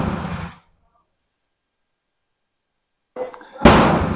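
A Madsen M47 rifle fires a round at a target outdoors, a sharp loud crack near the end after a brief mechanical clatter, with a short burst of noise at the start and silence between.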